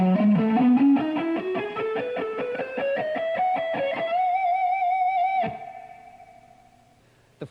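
Distorted electric guitar plays a fast shred run from a masterclass riff, a rapid rising string of picked notes settling into a sustained vibrato note that cuts off and rings out, loud and alone.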